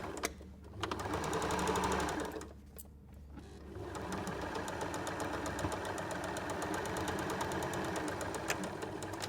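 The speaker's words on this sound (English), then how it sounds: "And again, sew that scant seam allowance" A sewing machine stitches a scant seam on chequerboard quilt blocks, running in a steady mechanical rattle with a brief pause near the start, close and fairly quiet.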